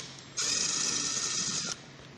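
A power driver with a T30 Torx bit spins out a tailgate cap bolt on a 2009 Chevy Silverado, one steady high whir lasting about a second and a half, close and fairly loud.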